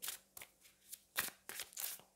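A haunted-manor tarot deck being shuffled close up, a run of quick, crisp riffling bursts separated by brief pauses, fairly quiet with no voices.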